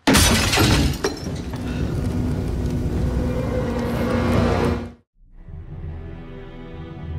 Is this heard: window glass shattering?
yes